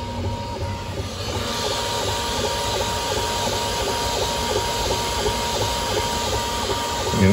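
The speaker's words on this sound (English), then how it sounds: "you don't really hear any noise other than the belts and the motors moving" Voron 0.1 3D printer printing an outer shell at high speed, its belts and stepper motors giving a steady whirring drone with a repeating tonal pattern under a constant fan hiss, close and continuous with no talking.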